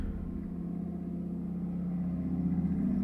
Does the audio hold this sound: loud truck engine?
yes